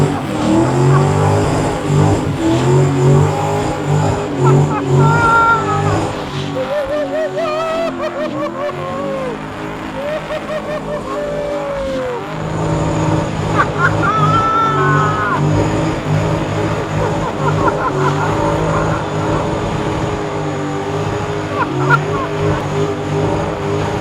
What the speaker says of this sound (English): because we got a burnout pit.